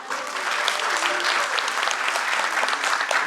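Sustained applause from a theatre audience in Bhopal after a stage play, dense and steady clapping filling the hall throughout without pause.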